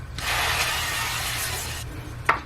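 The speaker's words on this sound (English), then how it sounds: "I'm gonna spray the pan really well with some olive oil spray." A steady hissing spray runs for about two seconds close by, then stops, followed by a brief clatter.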